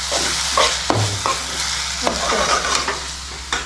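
Food for biryani is stirred as it fries in a pan, a loud steady sizzle broken by scraping and clinking strokes of the spoon every half second or so.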